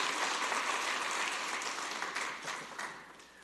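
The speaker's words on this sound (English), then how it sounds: "let's give them the first round of applause this morning" An audience at a city council meeting applauds proclamation recipients, with a moderate round of clapping that starts full and tapers off over a few seconds.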